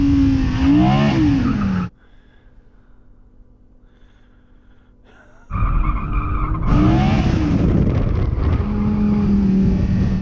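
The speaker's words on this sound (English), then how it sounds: "I'll give my tyres a warm up, Yanni." A sports car spinning its tyres to warm them before a drag race, a loud engine roar with squealing tyres, a sudden drop to a quiet idle, then another loud burst of revving and screeching.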